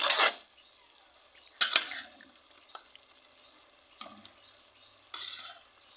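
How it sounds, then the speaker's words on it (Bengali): Pre-fried small prawns go into a simmering prawn malai curry and are stirred, with several bursts of scraping and splashing spread across the clip over a faint sizzle, close by and moderately quiet. "এবার আমি এতে চিংড়ি মাছটা দিয়ে দেব"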